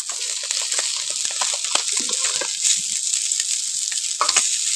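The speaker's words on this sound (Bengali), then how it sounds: "এখন মাছটাকে ভাজছিলাম, মাছটা ভাজা হয়ে গেছে আমার।" Fish frying in a pan in a home kitchen gives a steady, close hiss of sizzling oil, dotted with sharp crackles and pops throughout, with no voices.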